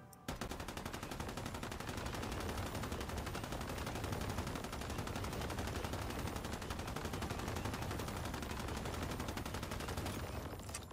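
Sustained rapid gunfire from a fast-firing build in the video game Once Human, a dense, continuous automatic burst running nearly the whole clip at steady loud level with no talk.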